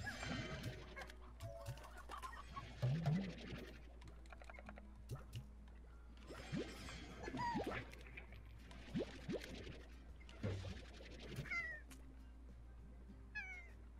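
In a video game, chickens cluck in scattered bursts, mixed with cat-like meows and assorted soft clicks over a steady low background hum.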